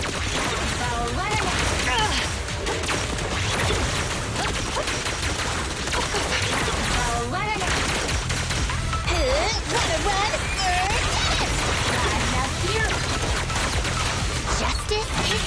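Sustained automatic gunfire from the video game Zenless Zone Zero, a dense, continuous barrage of rapid shots with crashes and impacts, loud and unbroken throughout, with voices calling out over the shooting.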